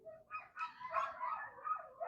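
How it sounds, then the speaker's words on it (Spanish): Several dogs bark and yip in a chorus of short, overlapping calls, moderately loud and fairly close, running steadily with no talk over them. "Todos los perros se callan ahora en el nombre de Jesús"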